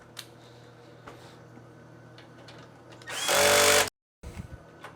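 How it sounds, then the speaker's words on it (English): A power drill with its setting turned low backs out the screws of an oven door handle, a loud whirring burst of about a second that cuts off sharply, surrounded by faint handling noises. "if you're using a drill, make sure you have the setting down low because you're drilling into plastic"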